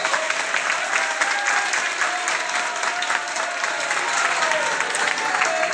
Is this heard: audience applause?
yes